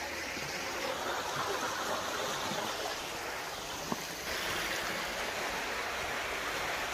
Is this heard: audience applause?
no